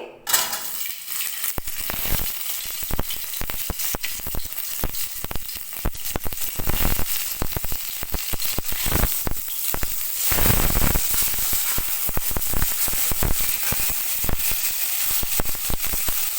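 Bitter gourd and eggplant fry in oil in a pan for Bengali sukto, giving a loud, crackling sizzle full of rapid pops and spatters with stirring scrapes, close and continuous, without speech.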